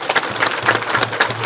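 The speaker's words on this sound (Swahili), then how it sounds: "Pigia makofi jamani." A hall audience claps for a student at a government leader's meeting with special-needs pupils in Njombe, producing dense, loud, fairly close applause through the whole short burst with no voices over it.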